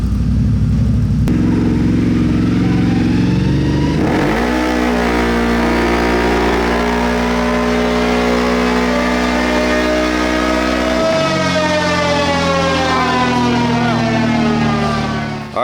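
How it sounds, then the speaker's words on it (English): A CFMOTO CFORCE 1000 ATV fitted with a stage 2 clutch kit runs loud and close, its engine revving up through rising, sustained tones, then dropping back and climbing again. "now we're about to run it and test it against the stock clutch."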